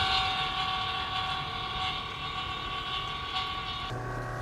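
A pump draws oil out of a sport-fishing boat's engine, running as a steady, close mechanical hum and whine with a slight shift in tone near the end.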